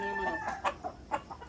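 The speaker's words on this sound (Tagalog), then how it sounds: "nasa kabila na yung manok" A chicken gives a short series of sharp clucks and squawks, close and moderately loud, several quick calls spread across a brief moment.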